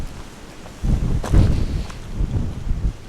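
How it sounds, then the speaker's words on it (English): Gusty storm wind in the Peak District buffets the microphone with low rumbling bursts, swelling and fading irregularly throughout. "Bit windy, a little bit cold"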